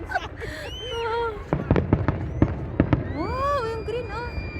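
Fireworks at a Saudi national day celebration in a park in Hail crack and boom in a quick series of sharp bursts, with whistling rockets rising and people talking excitedly over them.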